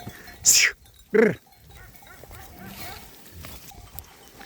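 Two loud, close bleats from goats or lambs in quick succession, followed by quieter outdoor background noise and faint movement.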